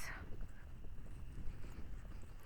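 Horse hooves clop faintly in an uneven walking rhythm during a trail ride, mixed with wind noise against the microphone and no talking.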